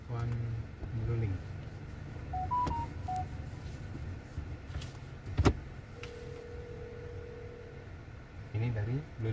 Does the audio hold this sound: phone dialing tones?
yes